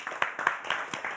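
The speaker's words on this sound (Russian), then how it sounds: "Эти аплодисменты вам." Audience applause at a Gomel event opening the cycling season: a dense, steady patter of many hands clapping at moderate volume, with a few louder bursts and no voices over it.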